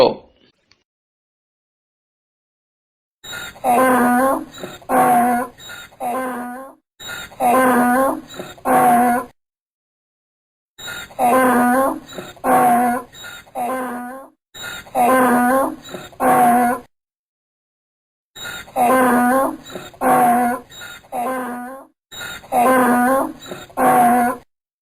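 A donkey brays loudly and up close in a series of long, strained, heaving calls, separated by brief silences.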